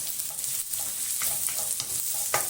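Onions and garlic sauté in a pan for adobong sitaw, a steady close sizzle broken by a few stirring scrapes.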